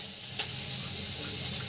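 Chopped onion and green chilli fry in hot oil in a kadai. A soft, steady sizzle comes from close by, broken once by a brief clink, and no one speaks.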